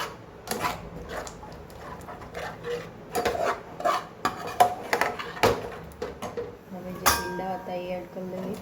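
Masala okra with yogurt is stirred in a pan, giving close, irregular scraping and rubbing strokes of a spoon against the metal, with brief clinks between them.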